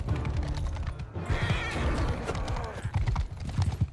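Horses in the Mount & Blade 2: Bannerlord video game pound along in a battle, a dense clatter of hoofbeats mixed with clashing noise and a possible whinny, with no talking.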